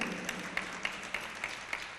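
Listeners at a Jain nun's sermon clap in a faint, distant, steady patter, with regular sharper accents standing out at even intervals.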